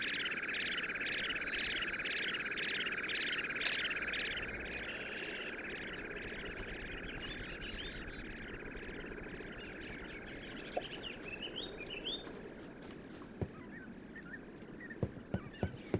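Recreated bird calls from a science-themed bird video game: a steady, looping warble of chirps plays throughout, with a few sharp clicks and ticks near the end.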